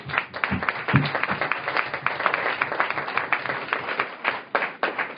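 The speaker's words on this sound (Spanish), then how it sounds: "vamos a tomar ahorita un aplauso para Juan y Paulina" Audience at a plenary session of an open government gathering applauds for two presenters, dense steady clapping filling the room at close range for several seconds, with a few sharper individual claps standing out early on.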